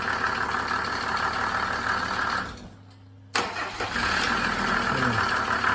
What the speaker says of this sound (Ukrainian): Классный мотор, класний апарат.